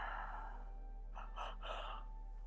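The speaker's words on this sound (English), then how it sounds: "Giving a nice deep breath in." A slow, deep in-breath taken during a guided meditation, a soft airy inhale swelling in a few breathy pulses, close and quiet over a faint steady hum.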